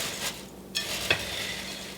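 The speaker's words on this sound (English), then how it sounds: "you want to gently stir it so everything is coated" Coated cereal being gently folded and stirred in a big bowl for puppy chow, giving soft, brief scraping and rustling strokes with a small clink partway through.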